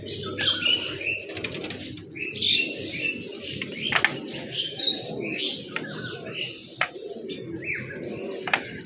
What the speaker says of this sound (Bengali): দেখেন কত দ্রুত এরা কত হাইট নিয়ে ফেলছে